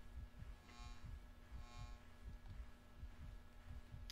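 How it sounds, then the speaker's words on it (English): A faint, steady heartbeat thumps in the horror video game Enter The Backrooms, with regular low pulses over a constant electrical hum and no talking. "I hear a heartbeat."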